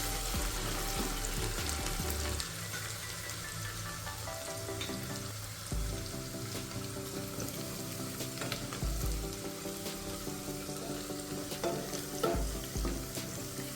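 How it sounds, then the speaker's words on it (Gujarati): Chopped onion sautéing in oil in a pressure cooker for veg pulao, a steady close sizzle and fry hiss throughout with occasional scrapes and stirring knocks, no talk. "ડુંગળીનો થોડોક કલર ચેન્જ થાય ત્યાં સુધી આપણે આને સાતળવાની છે."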